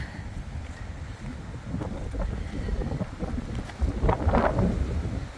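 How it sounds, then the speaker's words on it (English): Wind buffets the microphone in low rumbling gusts that swell and fade, loud and close, with no voices, at a boat launch and bridge on the Klamath River. "It's a little windy right now."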